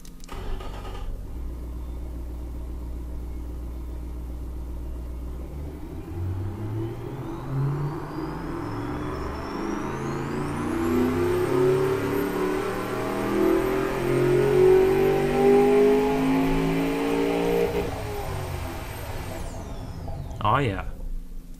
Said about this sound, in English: Once this turbo kicks in, this truck is gonna go like crazy.